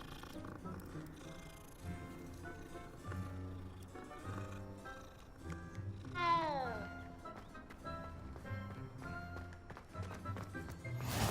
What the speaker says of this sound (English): Another kitty cat. Gotta pet them all.